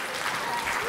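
A congregation applauds at a Sunday church worship service, a full, continuous patter of many hands clapping at once with no gaps.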